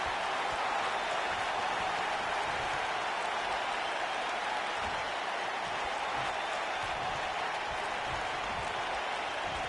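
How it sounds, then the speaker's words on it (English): An arena crowd in a wrestling video game roars and applauds steadily, a dense, loud wash of noise with no breaks throughout. "by the sound of this crowd, I think they're getting what they wanted"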